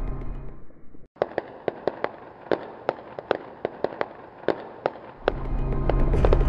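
Sharp, loud bangs ring out one after another at a steady, slightly uneven pace, about a dozen in a few seconds, each with a quick, fading tail.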